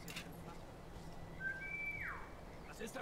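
Whistled lure in the stealth game War Mongrels: a short rising whistle, then a longer sustained one that slides downward, moderately loud over a quiet ambient bed.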